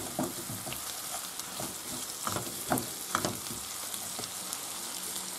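Seafood cream soup base with tomato sauce is stirred in a hot pan, a soft steady sizzle broken by a few scraping spoon strokes near the middle, close but fairly quiet and without speech.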